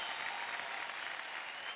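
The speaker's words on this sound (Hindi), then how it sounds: "जोरदार तालियां हो जाए यार" Studio audience applause on the Indian dance show India's Best Dancer, a dense, steady roar of clapping that holds loud and even throughout.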